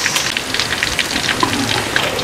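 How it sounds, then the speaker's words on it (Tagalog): Steady rain patters on a surface with scattered drops, a continuous close wash of wet noise without speech; no distinct wind gusts stand out. "Malakas ang hangin at ulan."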